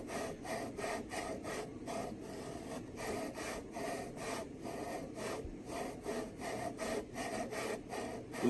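A lapping tool is pushed back and forth inside scope rings, producing a regular rhythm of close gritty rubbing strokes, roughly two per second, continuing steadily throughout.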